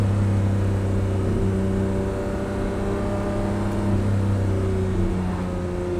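A straight-piped Lamborghini Murcielago engine rumbles loudly and steadily close by, its deep exhaust tone shifting in pitch as it downshifts, with no talking over it.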